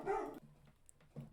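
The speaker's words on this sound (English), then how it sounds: "Dogs are freaking out." Dogs bark indoors, with one loud close bark followed by quieter yips and a second bark starting at the end.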